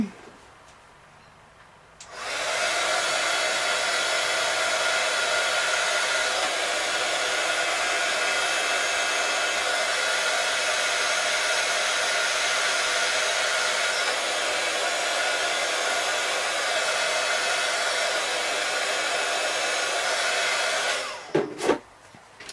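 A hair dryer runs steadily for about twenty seconds, drying splattered burgundy paint on a ballerina skirt; it switches on abruptly, holds a loud constant whoosh, then cuts off with a couple of brief knocks.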